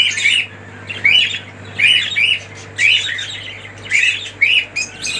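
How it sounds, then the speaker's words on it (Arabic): Australian budgerigars chirp and squawk in a group, with bursts of bright, scratchy chatter repeating roughly every second, close and loud over a low steady hum. "العصافير دي إن شاء الله هنفضيها دلوقتي في الإقفاص."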